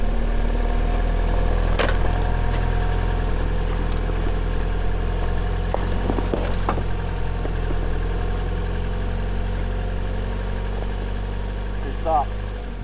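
A Jeep engine rumbles and idles in low, steady tones while crawling over rocks on a steep trail, with occasional clunks and scrapes, loud and close throughout.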